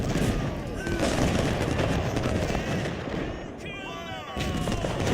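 Artillery and volley fire in Ultimate General: Civil War, a dense, continuous rumble of cannon booms and musketry crackle, with someone talking over much of it.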